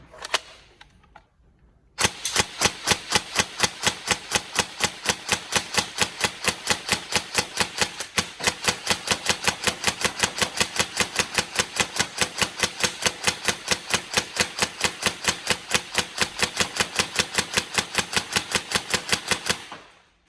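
A Tokyo Marui M4 Socom NGRS airsoft gun on a 7.4 V battery fires BBs in a long rapid full-auto burst, an even stream of sharp mechanical clacks lasting about eighteen seconds after a brief quiet start.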